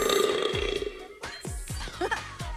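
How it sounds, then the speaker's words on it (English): Cartoon burp from a character drinking a burping-soda formula: a series of several short, loud guttural belches in quick succession, close and prominent with no talk over them. "the latest burping soda formula. A guaranteed one burp per sip."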